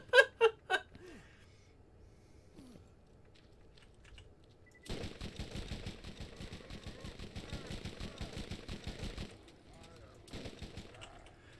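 Double Anarchy SMG firing in Borderlands, a long rapid burst of repeated close shots lasting several seconds after a few sharp early cracks, over faint background game sound; no talk.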